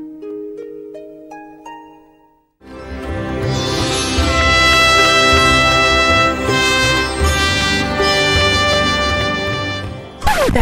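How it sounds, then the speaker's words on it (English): A trumpet plays in a teaching piece on the brass family, opening with a few soft, sparse notes before a loud, full passage sustains through to the end, with a sharp accent at the close. "That was the sound of a trumpet."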